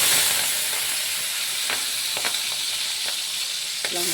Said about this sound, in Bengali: লাউটাকে এখন ভেজে নিচ্ছি।